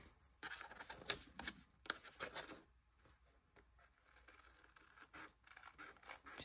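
Paper is cut along fold lines with scissors, heard as close, quiet, irregular snips and papery rasps with soft rustling in between.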